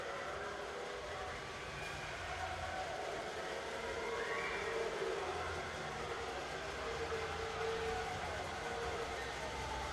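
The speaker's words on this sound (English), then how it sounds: "You can hear the crowd getting very loud over here." Crowd noise at a collegiate powerlifting meet during bench press attempts, a steady broad roar of voices and cheering that holds loud and continuous throughout, swelling slightly midway.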